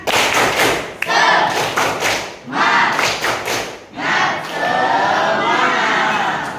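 A school class claps a rhythmic spirit clap in a classroom, loud bursts of clapping in short patterned groups separated by brief pauses, with children's voices mixed in.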